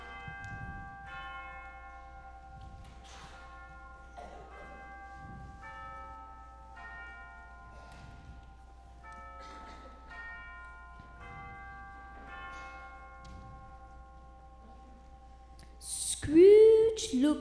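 A church bell tolls slowly and steadily at midnight, a dozen or so evenly spaced ringing strokes with long decaying tones, ending in a sudden louder jangle.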